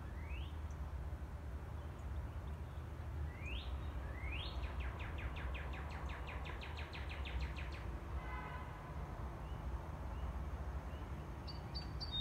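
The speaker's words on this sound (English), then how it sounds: "You hear that bird?" A bird sings outdoors, its rising whistled notes and a quick trilling series carrying clearly over a steady low background rumble, with no talking.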